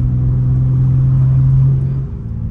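A BMW M3 Competition with a stage 2 tune revs hard, a loud close-up engine roar holding high for about two seconds before dropping back to a lower rumble.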